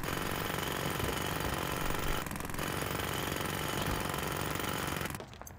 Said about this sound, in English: Alright, back to the jackhammer.